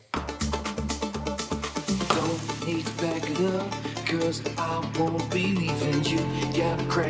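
Two dense electronic dance tracks, one in D minor and one in E minor, play at once on a Pioneer DJ Opus Quad, a steady thumping beat with layered synths whose harmonies clash and sound muddy, loud throughout.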